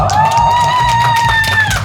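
Crowd cheering and clapping at an outdoor pumba performance at a sunflower festival, with a loud sustained voice or shout riding over the noisy audience.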